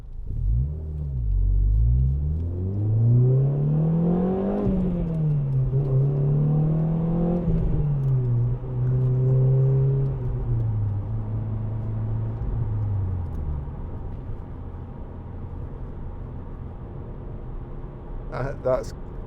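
A 2010 Renault Clio 2.0 VVT Renaultsport engine revs up and down repeatedly as it drives a bendy road, pitch rising and falling through gear changes, then settling to a low rumble.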